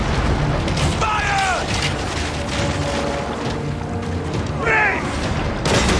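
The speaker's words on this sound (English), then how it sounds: "Alright, catapult. The big guy." Catapult fires in a combat video game, heavy booming mechanical launches with rattling machinery layered over continuous battle noise, while a voice shouts a command.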